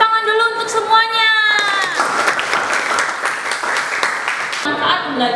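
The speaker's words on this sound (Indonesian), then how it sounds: "kita kasih tepuk tangan dulu untuk semuanya" Students in an Indonesian school classroom break into a burst of applause and cheering that fills the room, following a teacher's voice speaking at the start.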